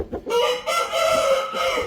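Chicks clucking up close, a few short calls followed by a longer, drawn-out call, with no talking.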